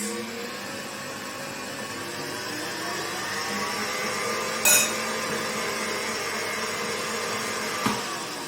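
A whisk beats meringue cupcake batter for gluten-free baking, producing a steady, close whirring drone that stays even throughout, with a brief louder clatter midway and a small knock near the end.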